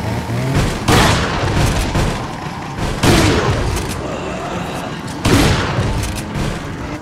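Shotgun blasts in the Resident Evil HD remaster game, three loud booming shots spaced a couple of seconds apart, each with a trailing rumble over a dense background.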